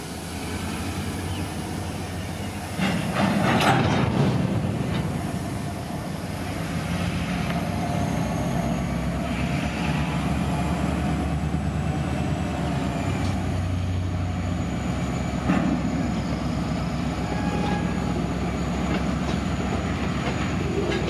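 A freight train rumbles past close by during switching operations, a steady loud roar of rolling railcars with a heavier swell near the start and continuous low wheel noise throughout.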